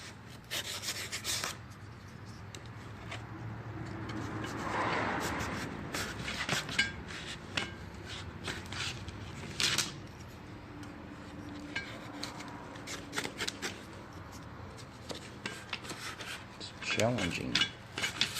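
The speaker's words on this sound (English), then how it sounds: "let's see how well I can open up this box here with a camera in the hand and a knife" A knife scrapes and saws through a cardboard box holding new parts for a Ford Model T roadster, with steady rubbing and rasping strokes broken by sharper tearing bursts near the end, close up and with no talk.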